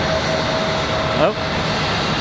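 A jet airliner taxiing back to its gate at Charlotte Douglas airport, its engines a steady broadband roar close by with a brief swelling whine partway through, while people talk over it.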